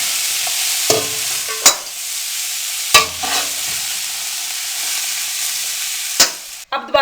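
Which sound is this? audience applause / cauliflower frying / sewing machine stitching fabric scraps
cauliflower frying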